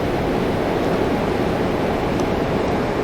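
Water streams steadily from a small pump in an automated watering system, a constant close rushing hiss with no breaks.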